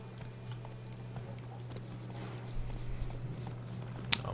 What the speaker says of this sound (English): Oh, my horse will just follow behind.